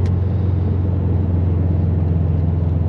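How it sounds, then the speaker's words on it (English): A steady, deep engine rumble from a modified Subaru WRX STI with full bolt-ons and a dyno tune idles close by, low and throaty with a constant drone and no voices over it. "Oh my gosh, this car sounds amazing."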